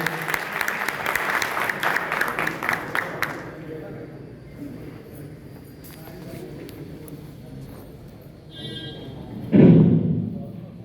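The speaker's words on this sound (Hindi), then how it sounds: "माननीय यजवेंद्र विक्रम सिंह साहब, तालियां बजा करके स्वागत करिए।" Audience applause in a Hindi-language seminar hall welcoming an honoured guest, a dense burst of clapping lasting about three seconds, followed by quiet room tone and a brief thump near the end.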